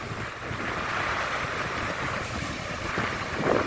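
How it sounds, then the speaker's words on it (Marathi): Continuous roar of sea waves surging under strong wind on the Konkan coast, muddy water churning, a broad steady wash with gusty microphone buffeting throughout and no voices. "वाऱ्यामुळे लाटा उसळल्या आहेत आणि असं वाटतंय की ते आता आपल्याकडे येणार आहेत"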